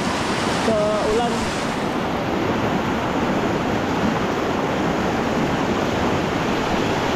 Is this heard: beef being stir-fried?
no